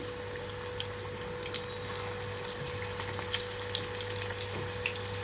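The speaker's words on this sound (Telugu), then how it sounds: "మీకు కావాల్సినంత సైజులో అయితే పిండిని తీసుకుంటూ ఆయిల్లో వేసుకోండి." Fenugreek leaf pakodi batter dropped into hot oil gives a steady, close crackling sizzle with scattered pops throughout, alone without talk.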